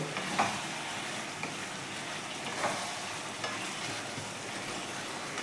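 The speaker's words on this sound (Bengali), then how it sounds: "আর তার সাথে উপর থেকে একটু ঘি ছড়িয়ে দিলাম এটাকে মাংসের সাথে পুরো মিশিয়ে নিচ্ছি" Chicken being mixed with ghee and garam masala in a pan for posto chicken: a low steady frying sizzle with a few faint scraping stirs at intervals, no talking.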